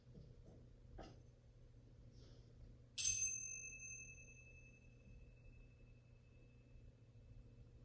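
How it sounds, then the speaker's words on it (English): A single gong or bowl-like bell is struck once, ringing out with a clear bright tone that slowly decays over several seconds in a quiet room, after a couple of faint soft taps. "is listening to the gong."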